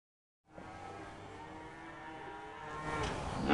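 A cow moos in one long, drawn-out call at moderate volume, starting after a brief silence and swelling slightly toward the end, with no talking.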